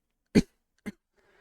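Two short, forceful coughs spaced about half a second apart, close and fairly loud, followed by faint breathy noise.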